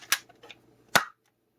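A Nerf Hammershot blaster loaded with a half dart snaps off sharp plastic clicks, a small click then a louder pop-like firing crack, close and alone in a quiet room.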